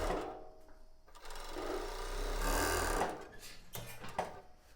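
A sewing machine runs a seam on embroidered tulle bra lace, its steady close whir rising in the middle and then settling into shorter bursts as the stitching slows.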